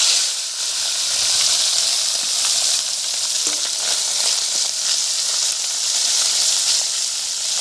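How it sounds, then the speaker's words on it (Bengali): Fish sizzles and crackles in hot oil, a constant bright frying hiss with small pops throughout. "মাছ ভাজা বসিয়ে দিয়েছি মাছ ভাজাটা ততক্ষণ ধিমি আছে আস্তে আস্তে ভাজা হোক"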